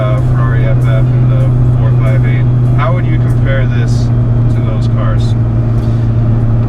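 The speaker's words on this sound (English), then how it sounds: "the supercharged V8 is just a joy to listen to" A 2006 Ford GT with a six-speed manual and supercharged V8 drones loudly and steadily from inside the cabin while someone talks over it.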